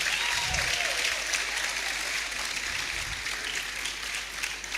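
An audience at a university employability fair applauds continuously, a dense, sustained wash of many hands clapping that holds steady throughout.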